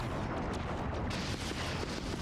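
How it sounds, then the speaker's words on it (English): Dense, booming missile explosions from a space battle in the strategy game Endless Space 2, including a Vaulter ship blowing up, roll together as a continuous loud, rumbling barrage with no clear gaps. "first explosion is a Vaulter's explosion"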